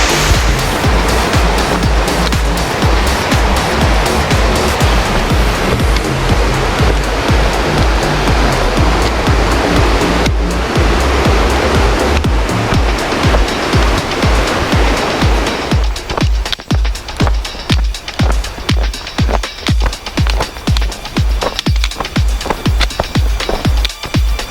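The Elwha River rushing loudly and continuously, a dense roar of flowing water heard up close along a side channel, steady throughout with no voices.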